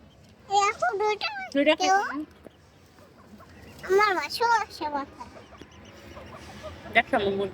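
A rooster clucks in short bursts at a birthday gathering while children talk loudly nearby, the bird calls mixing in with their voices.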